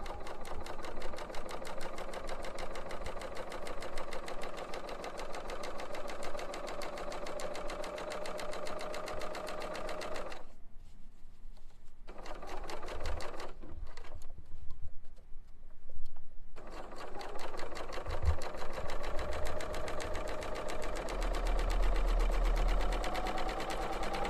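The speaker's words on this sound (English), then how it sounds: "I am then going to stitch on this about 1/2 to 3/4 of an inch over it" A Bernina sewing machine fitted with the Curve Foot #C23 stitches fabric in a steady, close, continuous mechanical whir, stopping briefly twice before running on.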